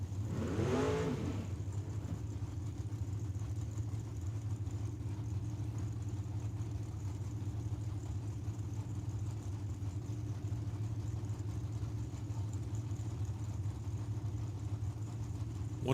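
A Camaro drag car sits staged at Tucson Dragway, its engine holding a steady, rumbling idle after a brief louder burst at the very start.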